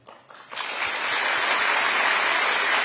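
An audience in a hall at a Q&A event applauds, the clapping swelling quickly into a sustained, dense wash of many hands that holds steady and loud throughout.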